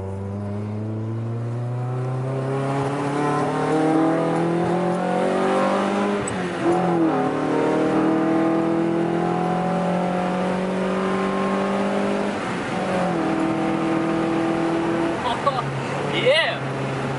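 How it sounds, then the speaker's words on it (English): A Honda H22A engine in a CD5 car pulls hard at wide open throttle in second gear onto a freeway, rising in pitch steadily with brief dips at gear changes, loud and close from inside the car. "Now we're about to go wide open throttle"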